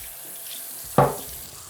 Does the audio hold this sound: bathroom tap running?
yes